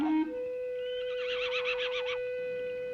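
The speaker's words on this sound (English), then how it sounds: "Come on, little Jim. Giddy up" A horse lets out a loud, close whinny, a rising, wavering neigh of about a second that trails off, over a steady background tone.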